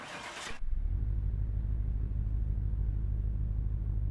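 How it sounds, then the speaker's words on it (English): A Ford GT engine in the Car Mechanic Simulator game catches after a brief starter crank, then settles into a steady, deep idle rumble that holds evenly and alone to the end. "That's a good sounding motor right there."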